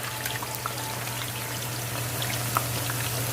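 Buttermilk chicken tenders dropped into hot frying grease, a steady dense crackle and sizzle holding at an even level with a brief sharper pop near the end.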